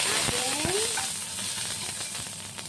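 Garlic sizzles briskly in hot cooking oil in a pan for string-bean adobo, a steady crackling hiss with a few light utensil scrapes and clinks near the start.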